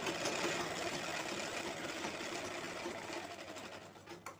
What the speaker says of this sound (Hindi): दोनों साइड में सिलाई लगा देंगे इस तरह से।